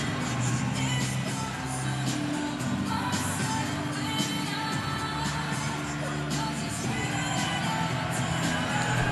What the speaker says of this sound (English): Crowd is serenading Rod Davidson on his way out.